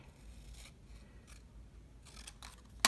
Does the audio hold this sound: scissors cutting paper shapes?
yes